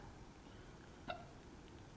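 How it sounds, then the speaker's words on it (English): A single short hiccup from a person, faint and brief, rising once out of a quiet room hum with no speech around it. "You got the hiccups now."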